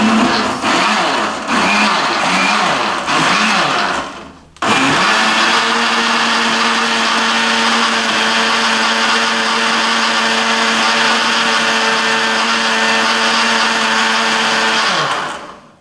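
A countertop blender pulses almonds and dates for homemade almond milk, starting with a short chunky burst and then, after a brief stop, running in a loud, steady whir until it cuts off at the end.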